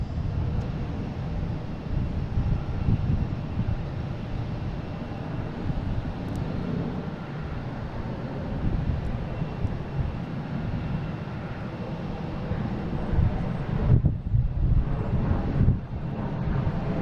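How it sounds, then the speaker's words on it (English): An Air Canada Embraer E175 airliner arriving from Montreal at Boston Logan, a steady broad jet roar with wind buffeting throughout, the engine noise fairly distant and continuous, briefly dipping near the end. "here's that Air Canada coming from Montreal on E175, flight 8610"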